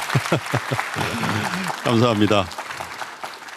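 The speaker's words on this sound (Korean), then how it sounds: "네, 박수 한번 하실까요?" Audience applause at a live digital policy talk event, a broad wash of clapping that builds and holds behind a voice thanking the room, with more speech rising over it partway through.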